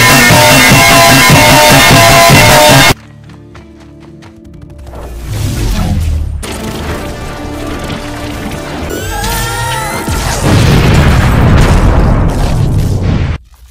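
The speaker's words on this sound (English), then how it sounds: "I'm sure no one noticed that giant explosion" A giant cartoonish explosion effect in a Sonic the Hedgehog remix, a loud sustained burst of booming noise that cuts off abruptly, followed by rumbling debris and scattered crashes and whistling effects.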